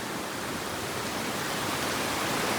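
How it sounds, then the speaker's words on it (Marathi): Strong floodwater from a major flood at Kurund rushes past in a steady, loud, broadband roar, continuous and unbroken with no voices. "आई पाणी कसा जोरात आहे"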